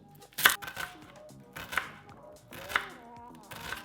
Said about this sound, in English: Chopping up some onion.